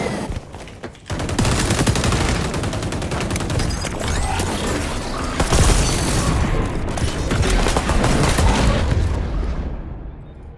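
Rapid video game gunfire crackles in dense bursts with a Semtex grenade blast among them, loud and nearly continuous before cutting off at the end.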